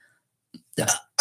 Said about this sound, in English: I knew a burp was coming.